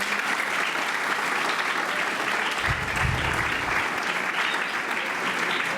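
An outdoor crowd at a local Epiphany bonfire festival in Ponzano Veneto claps steadily, a dense, even burst of applause lasting several seconds at moderate distance.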